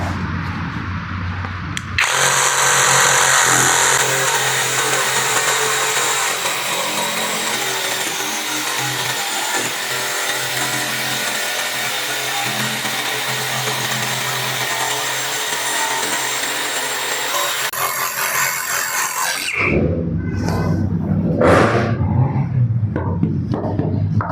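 A Modern M22 cordless brushless jigsaw cuts with its blower feature switched on, giving a loud, steady high-pitched whine and buzz for about seventeen seconds before stopping abruptly, followed by brief clattering handling sounds.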